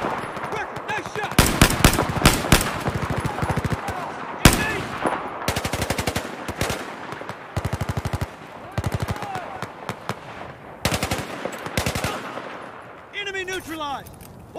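Gunfire in the Battlefield 4 video game: repeated loud bursts of rapid automatic fire and single heavy shots, separated by short gaps, with a few faint chirping effects near the end.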